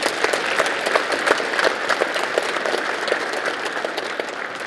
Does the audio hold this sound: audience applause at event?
yes